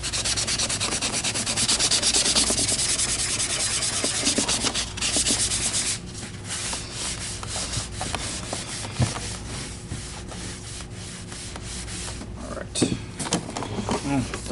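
Paint marks being scrubbed off an Electrolux Guardian Aerus Model 134 vacuum cleaner, with close, continuous rough rubbing and scraping that eases slightly partway through and carries some sharp knocks.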